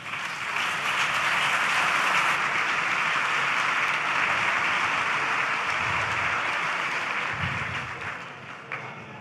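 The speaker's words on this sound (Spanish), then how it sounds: "Un fuerte aplauso." Sustained, dense audience applause at a GeneXus GX27 technology conference, loud and steady throughout before tapering slightly at the end, with no voices over it.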